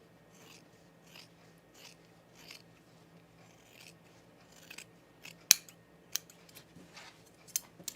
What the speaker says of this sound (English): Okay, I'm going to trim this seam allowance down.